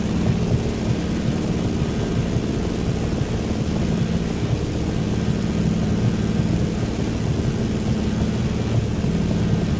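Steady propeller-airplane engine drone in Microsoft Flight Simulator 2024 during a rainy-day flight over Nairobi, Kenya, while climbing for altitude; a loud, continuous low hum with no talk.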